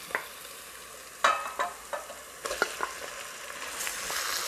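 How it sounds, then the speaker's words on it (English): Fish sautéing in a pan with garlic and cumin, a soft sizzle with a few sharp scrapes and stirring clatters against the pan, fairly quiet and close. "Add the fish."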